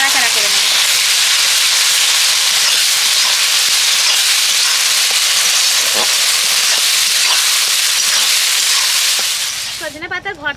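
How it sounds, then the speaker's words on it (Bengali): Drumstick leaf bharta being stirred in a pan gives a loud, continuous sizzling hiss with faint scattered scraping ticks, fading near the end as a voice comes in. "এবার ভালো করে নাড়াচাড়া করে নেব।"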